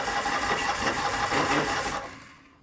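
A Norton motorcycle engine cranks over with a steady, loud mechanical churning for about two seconds before dying away into quiet, with no talking.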